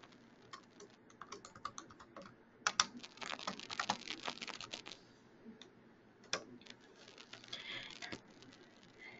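Fingers typing a code on a computer keyboard, irregular bursts of quick clicky keystrokes with brief pauses between runs, close and fairly quiet, no talking.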